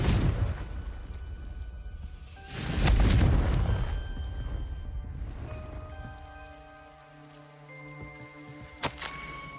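A Confringo fire spell blast in Hogwarts Legacy, a heavy, rumbling burst near the three-second mark that fades slowly, followed by sustained tonal ringing and a sharp click near the end.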